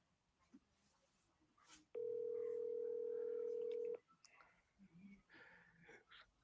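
An unanswered phone call rings out with one loud, steady ringback tone of about two seconds, followed by faint rustling and breathing nearby.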